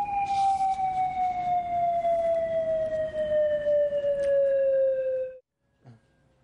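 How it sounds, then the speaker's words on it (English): Hawaii's attack warning siren wails in one loud, sustained tone whose pitch sinks slowly for about five seconds before cutting off abruptly into near silence. "The sirens would wail from 400 different locations across the island chain for 60 seconds,"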